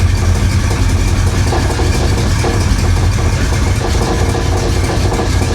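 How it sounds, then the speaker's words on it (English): A flood-damaged 1966 Impala engine runs unevenly near idle on a separate fuel system, a loud, steady low rumble with rough vibration throughout and no talking. "We got a completely separate fuel system on this thing right now, and it still won't idle."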